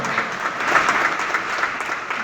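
Steady, fairly loud clapping from an audience at a student award ceremony honouring a first-place winner, a continuous even patter filling the hall.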